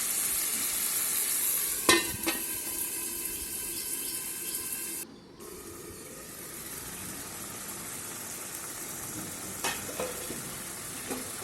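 Bombay duck fish cooking with spices in a covered pan, a soft continuous sizzle and simmer with a few sharp clinks of the lid or spoon.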